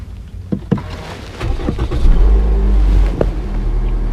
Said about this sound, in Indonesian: Sebentar, kita hidupin mesin dulu ya.